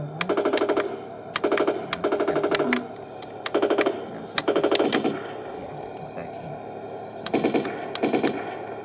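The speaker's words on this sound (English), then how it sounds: "You can change the machine gun sound, so it's on there." Heng Long Toucan 1/16 scale RC tank sounding its electronic machine gun effect, rapid rattling bursts repeated several times with short pauses, loud and close over a steady motor hum.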